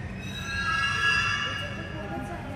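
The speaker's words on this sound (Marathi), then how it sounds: "ही बघा येली ट्रेन" A Mumbai Aqua Line metro train pulls into the station with a rising then easing rumble and a high metallic wheel squeal, while people talk nearby.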